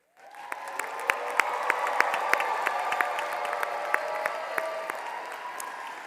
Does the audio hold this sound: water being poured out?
no